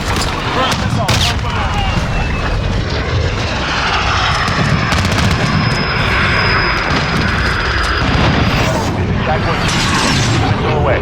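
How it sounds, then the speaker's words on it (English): Cruise missile strike in Call of Duty Modern Warfare multiplayer Domination: a loud, continuous aircraft-like roar and rushing engine sweep with booming explosive thuds, dense battle noise throughout, with voices talking over it. "Cruise missile."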